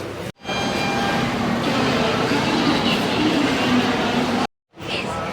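Inside a passenger train in India, seated and waiting to depart, a steady, loud, close rumbling hum fills the space, broken by two brief dropouts.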